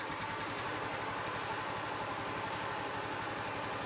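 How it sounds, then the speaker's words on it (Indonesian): A Honda Supra X 125 motorcycle engine idles close by with a steady, rapid mechanical putter that stays even and moderately quiet, with no talking. "sekarang kita hidupkan motornya"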